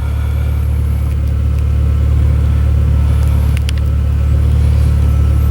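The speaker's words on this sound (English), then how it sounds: "I'm just waiting for the RPM to come down." A VW MK4 Golf with a 2.0L engine idles right after an oil change, giving a loud, steady low rumble with an even hum that holds constant throughout, recorded up close.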